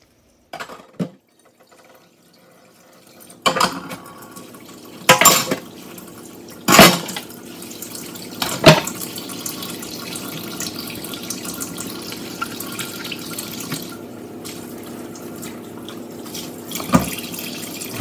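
Dishes are washed by hand in a sink with running water and Dawn Power Wash, heard as quiet intermittent splashes, water bursts and clinks of dishes at close range, with longer stretches of soft trickling and no talking.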